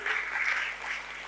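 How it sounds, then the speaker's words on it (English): Applause from the audience at an IPO listing ceremony at BSE, a steady broadband patter of many hands held at moderate level for just over a second, sounding somewhat distant. "Let's make it more auspicious by adding some more energy with a round of applause"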